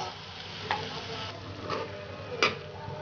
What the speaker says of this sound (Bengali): ভালো করে মিশিয়ে নিচ্ছি।